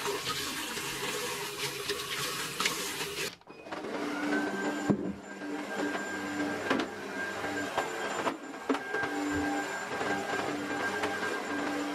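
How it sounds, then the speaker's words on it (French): A household vacuum cleaner runs steadily through a home cleaning session, a continuous broadband whir with a few brief dips and bumps as it moves, close and fairly loud. "je passerai un petit coup d'aspirateur"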